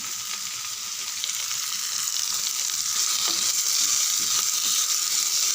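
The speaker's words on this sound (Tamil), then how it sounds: "நல்லா வதக்கி விடுங்க 3 நிமிஷம்." Coriander and curry leaves sauté in a pan with a steady, close broadband sizzle that builds slightly louder over the last few seconds, with faint stirring clicks and no speech.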